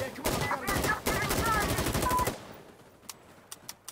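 Rapid bursts of machine-gun fire in the war video game Sandstorm, loud and close, in two long volleys followed by a few scattered single clicks after the magazine runs dry.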